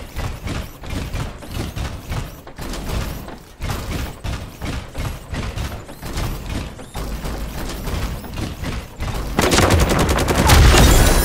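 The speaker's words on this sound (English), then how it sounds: "Shots heard!" Gunshots in the mech shooter video game Super Mecha Champions, a loud, continuous barrage of rapid shots and thumping impacts that grows heavier and more explosive toward the end, with no talking.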